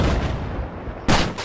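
Gunfire from an online Battlefield 4 match on PS4: a loud, close burst of rapid shots that fades, then a second sharp volley cuts in near the end.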